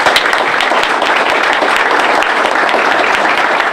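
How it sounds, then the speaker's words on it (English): Sustained, loud applause from a crowd at a sports park groundbreaking ceremony, steady clapping filling the whole stretch without a break. "Let's give them a round of applause."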